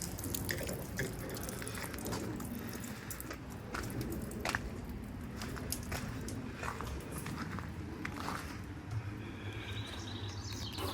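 Water splashes and trickles steadily from a hose into storage barrels outdoors, a constant broadband wash with occasional drips and faint birdsong behind it.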